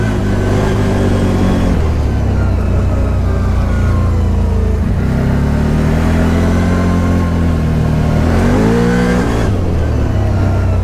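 A 2021 CFMOTO ZForce Z 950 side-by-side engine revs and accelerates through its dual rear exhaust, a steady deep drone with rising and falling pitch sweeps, loud and close throughout with no talking.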